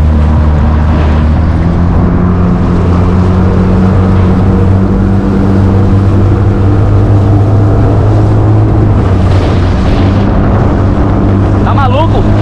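A motorboat engine drones loud and close throughout, holding a steady low roar that swells as the boat speeds up over the water, with a brief voice near the end.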